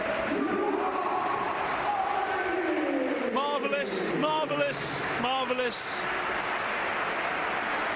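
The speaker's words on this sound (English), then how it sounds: "Full thunderous applause, as if the fans are saying, that's more like it, Luka" A Real Madrid stadium crowd against Sevilla roars with sustained, loud applause for Luka Modric as he comes on, a dense wash of clapping and cheering running the whole time beneath an excited commentator's voice.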